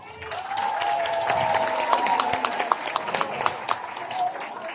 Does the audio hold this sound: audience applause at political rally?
yes